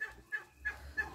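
A rooster calls in a farmyard kept with hens and turkeys, four short, bright cries spaced evenly about a third of a second apart over a low background rumble.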